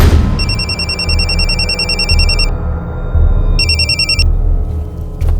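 A telephone rings loudly and close by in a crime drama scene, sounding in two separate electronic ringing bursts with a short gap between them, over a low steady background hum.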